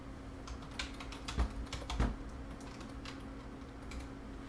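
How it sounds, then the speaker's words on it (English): Keys clatter on a computer keyboard in a quick, uneven run of close taps with a faint steady hum underneath. "You have to type it out this way"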